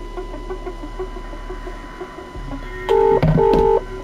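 Telephone keypad tones sound in a horror video game: a few loud, clear beeps in quick succession over a low steady hum, after a quieter stretch.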